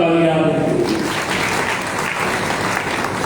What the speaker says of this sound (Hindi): मैं चाहूंगा जोरदार तालियां दें।